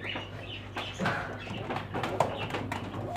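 Pigeons coo and rustle inside a bird shop, soft low calls overlapping with shuffling and scattered clatter nearby.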